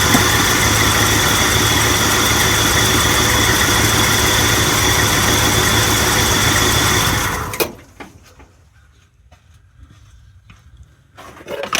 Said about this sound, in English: this car has been sitting here not running for a good half hour, and it just fired right up